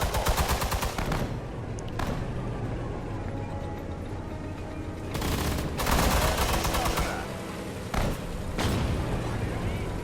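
Battle sounds from Sudden Strike 4, a World War II strategy game set in the siege of Leningrad: dense bursts of gunfire and heavy artillery booms, loud and nearly continuous, with a voice talking at times.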